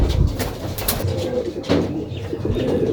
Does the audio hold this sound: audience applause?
no